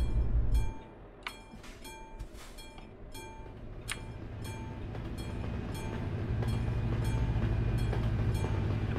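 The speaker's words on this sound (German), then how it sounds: "Oh, ein Zug." A train rolls past in Euro Truck Simulator 2, a rumbling approach that swells into a loud, steady rolling roar with rhythmic clicking of wheels over rail joints, after a brief loud thump at the start.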